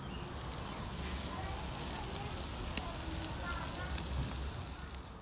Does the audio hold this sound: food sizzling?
yes